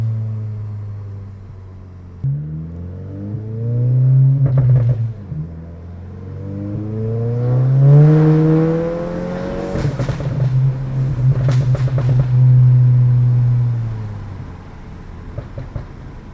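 A Euro-spec MK7 Volkswagen GTI with APR tune revs through an X-Force catback exhaust with Varex muffler, several rising throttle blips and sustained deep drone, loud and close, ending in a lower idle.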